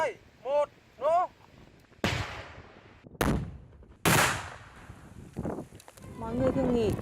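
Deminers set off a controlled detonation of a landmine, and three sharp, heavy blasts ring out one after another with rumbling decay. Short bursts of voices come before the blasts and after them.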